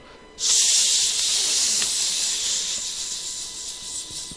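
Water at a boil gives off a steady, bright hiss that begins abruptly and holds at a constant, moderately loud level throughout, with no voices over it.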